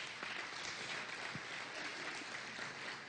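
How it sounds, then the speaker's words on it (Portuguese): A church congregation at a discipleship congress in Bragança Paulista gives a round of applause, steady, fairly soft clapping from many hands that continues evenly, with no speech over it. "vamos dar uma salva de palmas"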